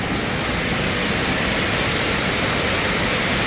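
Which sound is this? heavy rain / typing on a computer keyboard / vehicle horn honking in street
heavy rain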